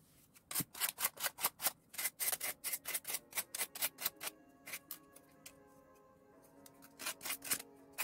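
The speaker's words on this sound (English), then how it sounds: "Now we're sanding." Quick back-and-forth scraping strokes of sandpaper on wood, a rhythmic burst, a pause, then a few more strokes, close and fairly quiet.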